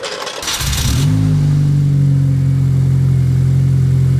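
A MINI car engine, just repaired after a camshaft sensor fault, cranks briefly then catches and settles into a loud, steady running idle close by.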